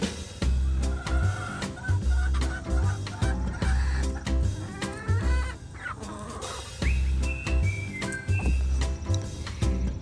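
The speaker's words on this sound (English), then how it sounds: "I have to go let the chickens out" Several chickens cluck and chatter close by over a low rumbling background, with bursts of noise and a few higher bird calls scattered throughout.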